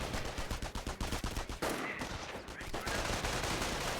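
Dense, rapid infantry gunfire in the World War II strategy game Company of Heroes, US forces against the Wehrmacht: overlapping rifle and machine-gun bursts crackling continuously and loudly, with a brief lull midway.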